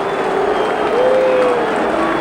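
Football crowd at a West Ham v Newcastle match, a loud, dense, continuous roar and buzz of a large stadium audience under a commentator's voice.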